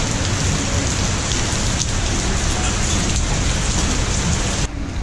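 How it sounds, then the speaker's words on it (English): Heavy rain falls steadily outdoors near a skatepark in Singapore, a loud, dense, unbroken hiss of drops striking surfaces close by that cuts off sharply near the end. "Beautiful up here, but now it's raining."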